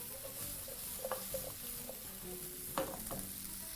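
Ingredients tossed and frying in a pan for a dinner of grilled rosemary pork steak and veggie salad, a steady close sizzle with occasional soft clinks and scrapes of stirring.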